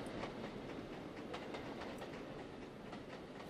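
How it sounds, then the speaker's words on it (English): Quiet, rhythmic chuffing of a USATC S160 steam locomotive in the Trainz: A New Era video game runs steadily under a constant rolling rumble of train wheels, soft and even. "you can hear the chuffing, but it's very quiet, which is odd."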